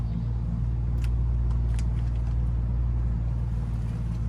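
Building work from nearby construction gives a steady, loud low rumble like heavy machinery running, with a few faint higher clanks on top and no voices.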